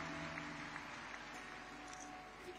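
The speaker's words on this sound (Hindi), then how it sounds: "करतल ध्वनि के साथ जोरदार तालियां उनके लिए" Audience applause at a Hindi Diwas event in Surat forms a steady, moderately quiet wash of clapping that runs unbroken through the short stretch, without speech over it.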